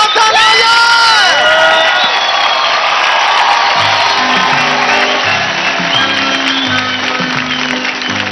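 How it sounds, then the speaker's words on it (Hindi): A studio audience on a televised Indian dance competition show cheers, whoops and applauds loudly and continuously, with a dense crowd roar and a background music bed entering partway through. "प्लीज जोरदार तालियां."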